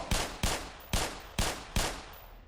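Five sharp gunshots in Black Mesa, fired at a steady rhythm about half a second apart, each loud close crack trailing into a short echo.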